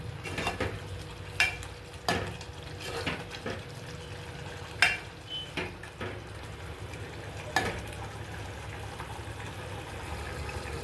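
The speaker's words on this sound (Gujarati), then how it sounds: "મિક્સ સબ્જી નાખ્યા બાદ 1 થી 2 મિનિટ માટે સ્ટવ પર ચડવા દઈશ" Mixed vegetables cook in gravy on a stove for a Gujarati mix veg sabji, a low bubbling simmer broken by several sharp scrapes and clacks of a spoon stirring against the pan.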